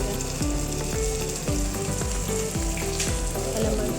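Sauce of vinegar, soy, tomato and green chilli bubbles and sizzles steadily in a pan while cooking chicken lollipop, with repeated low thuds of stirring or scraping against the pan.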